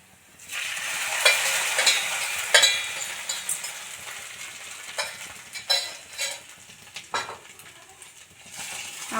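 Toasted peanuts stirred into poha in a pan make soft scraping and rustling, with scattered light clinks of the spoon against the metal, fairly quiet and steady throughout with no talk.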